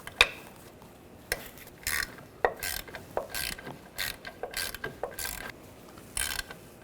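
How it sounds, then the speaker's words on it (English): A ratchet fitted with a 10mm socket works a nut on the rear suspension of a 2006-2010 BMW 550i, giving irregular bursts of crisp clicking pawl strokes with brief pauses between them, close and clear. "Disconnect this level sensor. I'm going to use a 10mm socket."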